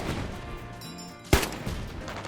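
An automatic heavy grenade launcher fires in a video game, a single sharp loud blast that lands after a brief mechanical whine, followed by lingering rumble and no talk.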